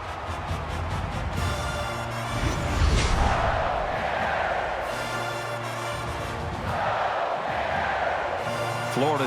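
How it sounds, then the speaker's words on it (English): A packed stadium crowd roars throughout a Florida State at Florida college football game in NCAA Football 22, a dense, sustained wall of cheering with chant-like tones that swells and surges in waves. "Becoming the 12th man, the crowd is always into it here."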